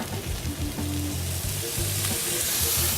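Pancetta bacon crisps in olive oil in a hot pan, giving a loud, steady, close sizzle with scraping stirs and occasional utensil knocks throughout, no talking.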